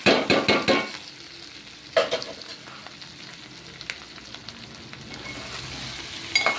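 Quarter kilo of chopped capsicum hitting a hot pan for a sesame-powder curry, with a few loud stirring scrapes and sizzle bursts at the start, then a softer steady frying hiss and occasional clinks.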